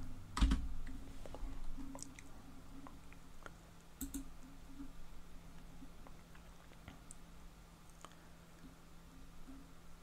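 Quiet clicking from someone typing on a computer keyboard, faint and scattered in short irregular bursts over a low hum, with one louder knock near the start.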